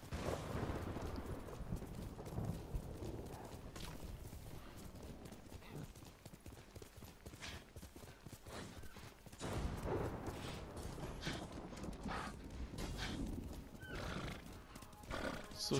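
Horse hooves clip-clop steadily at a gallop in the Ghost of Tsushima video game, with several loud neighs and whinnies breaking through, plus bursts of combat noise under the riding.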